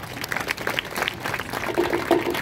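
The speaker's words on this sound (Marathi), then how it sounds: "करा की टाळ्या जरा" Scattered hand claps from a crowd at an outdoor village wrestling bout in Wadachi Wadi, Pune, come in irregular bursts of moderate loudness with background murmur.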